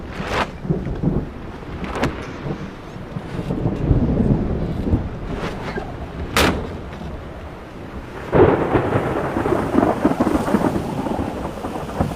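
A thunderstorm with strong wind in Uttarakhand, heavy rumbling thunder rolling through steady rain and gusty wind buffeting the microphone, loud and sustained with several sharper cracks.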